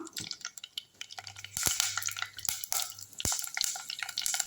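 Hot oil sizzles and hisses loudly in a pan, surging as pieces of eggplant drop in, with a few scraping clinks of a utensil.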